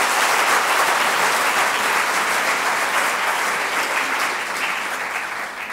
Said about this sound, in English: You need to give Pastor Ago a hand